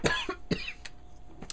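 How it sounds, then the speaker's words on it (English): A sudden dry cough from an adult, two sharp bursts in quick succession near the mic, then a softer fainter one trailing off, with quiet room background between. "I don't know where that cough came from."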